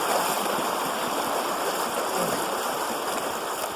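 A cold river in Denali rushing past during a wading crossing, a steady broadband hiss and roar of flowing water, close and constant, with no talk.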